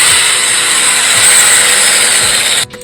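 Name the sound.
power drill running by itself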